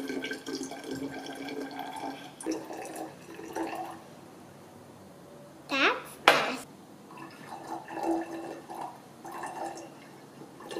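Hummingbird nectar, one part concentrate to seven parts water, is poured from one container into another, giving brief splashing and trickling bursts under a soft background of room sound.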